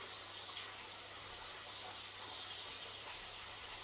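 Bacon fries in a pan over low heat with a soft, continuous sizzle and hiss. The sound is steady and faint from start to finish, with no voices over it.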